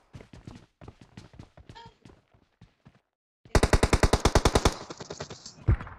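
Automatic gunfire in the PUBG battle royale game on the Sanhok map, a rapid burst of about a dozen close, loud shots followed by a ringing tail, after a stretch of quiet footsteps and movement.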